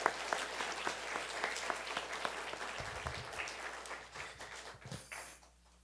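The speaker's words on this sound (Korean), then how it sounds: "1년 동안 우리가 기도하겠습니다 하는 마음으로 한 번 더 격려 박수 보내주시기 바랍니다" A church congregation claps for its shepherds and assistant shepherds in a steady, full round of applause that thins and fades toward the end.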